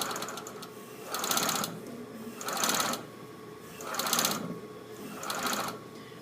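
A blind hem sewing machine sewing a chain stitch runs in four short, even bursts of rapid mechanical whirring, with quiet pauses between each run.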